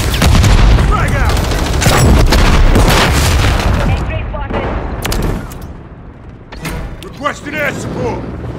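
A frag grenade goes off in a Call of Duty: Modern Warfare III multiplayer match, along with heavy booms and bursts of gunfire. Shouted voice lines are heard at the same time.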